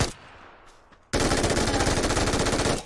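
A new gun in a video game fires full-auto in one sustained, rapid, loud burst of shots after a brief quieter moment, close and dense, with no talking over it.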